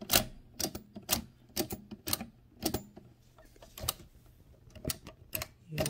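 A 1925 AEG Mignon 4 index typewriter clatters as someone types on it, each keystroke a sharp, close mechanical strike in an uneven rhythm, with quiet pauses between the bursts.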